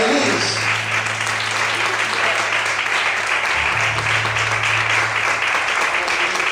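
A church congregation claps steadily and loudly throughout, with a low sustained musical tone humming beneath the applause.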